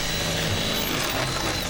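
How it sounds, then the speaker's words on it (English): A power drill bores holes in go-kart parts at a kart racing track, giving a continuous loud grinding, rattling whir throughout with no talking. "Okay, he's drilling holes."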